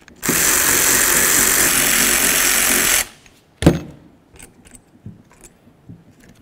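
Hand tools work the caliper slider bolts on a front brake caliper of a 2006-12 Ford Fusion: about three seconds of loud, steady whirring from a power tool, then a sharp clank and scattered light metallic clicks and taps.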